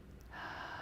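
A single deep inhale through the nose during a guided breathing exercise, a soft airy rush that swells and holds briefly, close and quiet.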